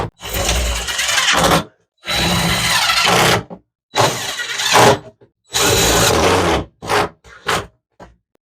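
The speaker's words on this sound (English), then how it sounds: "So I'm going to put in some more screws." A power drill drives screws into a blind corner cabinet in repeated loud, close bursts of whirring, each lasting a second or two and separated by short pauses.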